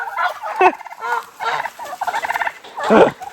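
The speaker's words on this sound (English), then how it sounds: "These turkeys are the noisiest dang animals in the world." Turkeys on a farm gobble loudly and close by, several rapid warbling calls overlapping across the few seconds.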